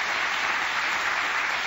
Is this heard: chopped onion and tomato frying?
no